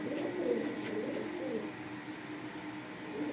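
Cooing of a pigeon, a yellow-eyed bird in moult kept among Deshi and Pakistani breeds at a home loft, with low throaty coos repeating in soft swells close by and no talk.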